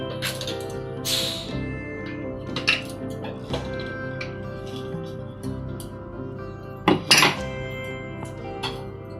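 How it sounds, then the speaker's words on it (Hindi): Metal clanks and clinks of a pressure cooker lid being opened after its pressure is released, holding dalia khichdi, with a few sharp knocks and rattles over a quiet kitchen hum. "प्रेशर कुकर का सारा प्रेशर रिलीज हो चुका है। Now I am going to open the lid."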